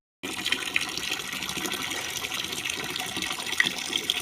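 Tap water runs steadily as hands are washed, a continuous close splashing gush that starts abruptly and carries on without speech.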